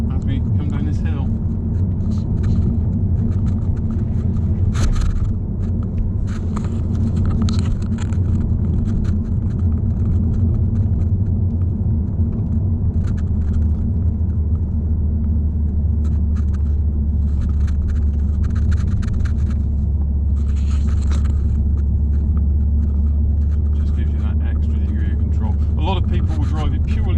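Car with a double-clutch automated gearbox held in third gear while coasting downhill, a steady low engine and road rumble running throughout with someone talking over it.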